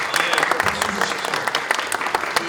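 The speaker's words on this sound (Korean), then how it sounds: "박수 주십시오." Audience applause at a Korean youth policy debate forum, dense steady clapping from a crowd filling the room, sustained and fairly loud throughout.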